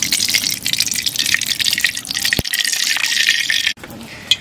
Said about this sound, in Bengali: সর্বপ্রথমে আমি তেল দিয়ে দেবো